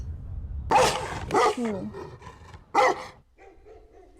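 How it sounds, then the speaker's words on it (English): Unseen dogs in a haunted-house horror series bark in several loud, sharp bursts close by, with a whine between them. A person gives one brief exclamation. "the invisible dogs that keep barking around the house"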